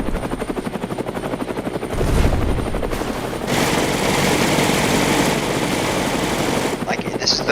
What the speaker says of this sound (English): this is the best helicopter in the game